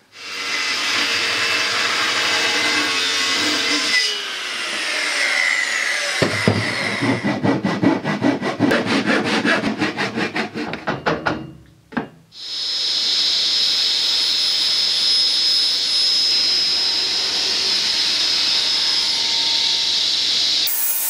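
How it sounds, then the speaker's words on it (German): A circular saw running on a guide rail cuts a bevel through a poplar wood side panel for a glovebox, spinning up with a loud whine, then a rough rasping cut, a brief dip, and a long steady whir as it runs free. "schiefen Schnitt hier durch die Seitenwand machen wir besser mit der Handkreissäge, mit Schiene"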